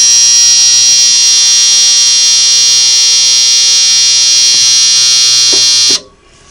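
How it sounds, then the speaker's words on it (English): An ultrasonic cleaner with its transducers switched on, used on sewing machine parts, gives off a loud, steady high-pitched electric buzz that runs unbroken and then cuts off abruptly near the end. "I'll turn the ultrasonic transducers on."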